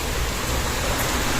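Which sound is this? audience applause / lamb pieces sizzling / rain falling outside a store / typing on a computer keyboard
rain falling outside a store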